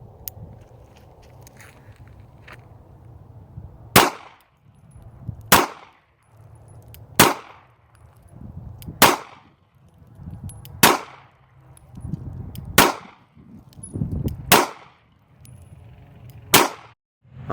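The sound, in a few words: Taurus PT908 pistol firing eight shots at range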